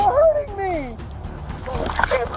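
A dog whimpering and yelping during a police arrest, with high, wavering whines close by, while people speak over it.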